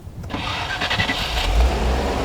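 An old Audi with an overheating, misfiring engine cranks briefly and catches, settling into a rough, loud idle with a slight rev, close by.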